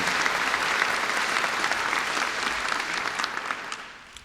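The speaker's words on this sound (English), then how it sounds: "How about another round of applause?" A crowd applauds at a class of 2023 graduation ceremony in Joplin, with steady, dense clapping from a large room that fades gradually toward the end.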